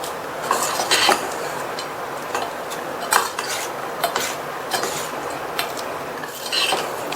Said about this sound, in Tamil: சேர்த்துட்டு நல்லா கலந்து விட்டுருங்க.